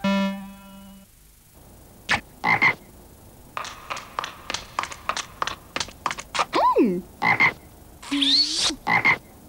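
Frogs croaking in a TV advertisement, a string of loud, close, clipped croaks in an irregular rhythm after a brief tone, mixed with squeaky cartoonish effects.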